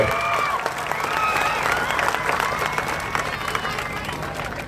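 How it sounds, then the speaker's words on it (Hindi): Crowd applause at a political public meeting in Dhule, a thick sustained wash of many people clapping with some cheering and murmur mixed in, loud and steady throughout. "ज़ोरदार तालियों से धुलिया की पुलिस के लिए"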